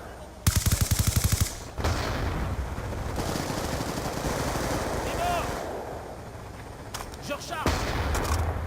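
Automatic gunfire from Call of Duty Black Ops 2 multiplayer, a fast loud burst followed by scattered shots and in-game sounds, with players talking over the action.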